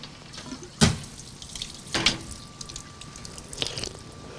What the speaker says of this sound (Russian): В этом роднике течет артезианская вода